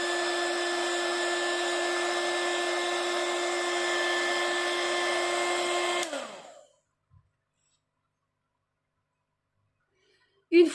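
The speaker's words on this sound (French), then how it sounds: "je vais venir chauffer afin de sécher avec mon heat gun" Heat gun drying slow-drying stamped ink, a loud steady blowing whine with a clear tonal hum for about six seconds, then switched off and winding down into silence, with a brief knock at the end.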